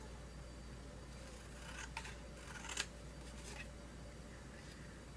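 Scissors snip through extra paper on a junk journal cluster embellishment, a few faint quick cuts over a steady background hum.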